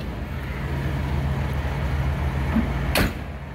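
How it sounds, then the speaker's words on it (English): A single solid door slam comes near the end from a 1965 Imperial LeBaron Barreiros limousine, a sharp close thud over the steady low hum of the idling engine. "Door shuts nicely."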